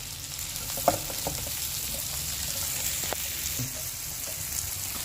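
Spring onion whites sautéing in a pan for broccoli soup, an even moderate sizzle with occasional stirring clicks and a brief louder knock near the start.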